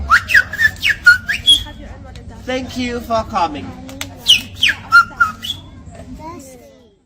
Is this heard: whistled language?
yes